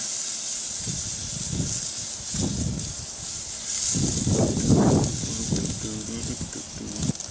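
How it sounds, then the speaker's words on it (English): Beef steak searing on a grill fired to about 650 degrees, a constant bright sizzle and hiss running throughout, with someone talking over it in low bursts. "With the egg fired up to around 650 degrees, it's time to sear the steak."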